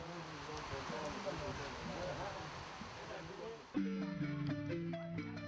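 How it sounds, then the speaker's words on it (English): Heavy raindrops pelt the ground in the Senufo country of Côte d'Ivoire, a dense steady patter that holds for several seconds before abruptly giving way to other sounds. "so the heavy raindrops subside after a while"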